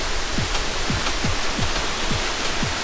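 AJ Falls on the Mendenhall trail gives a steady, dense broadband roar of falling water, close and constant, with a faint regular thump repeating beneath it.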